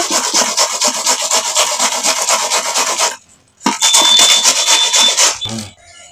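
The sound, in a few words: grating sliced food in a grating machine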